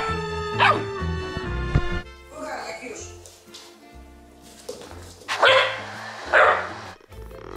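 A dog yips and barks in short bursts close by, mixed with music and people talking around it.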